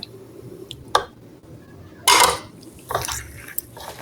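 Red amaranth greens batter being mixed with flour in a bowl, a few sharp scattered clinks and scrapes of a utensil against the bowl, close and intermittent over quiet background, no talk.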